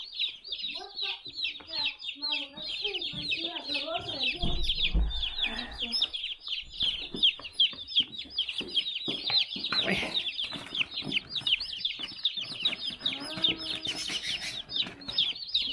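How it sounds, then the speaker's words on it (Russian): Agitated parrots kept indoors under a heat lamp call continuously with dense, shrill chirps and squawks, close and loud throughout, with brief low sounds of people nearby. "О, попугаи что-то заволновались."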